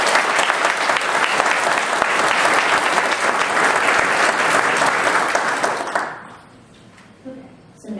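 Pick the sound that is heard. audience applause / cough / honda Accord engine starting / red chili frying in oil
audience applause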